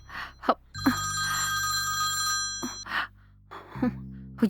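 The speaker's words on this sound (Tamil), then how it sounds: "ஸ்வேதா, இவ ஃபோன் பண்ணாலே பிரச்சனை தான்." A phone rings with an incoming call, a bright electronic tone repeating in two long bursts up close, with sighs and gasps in between.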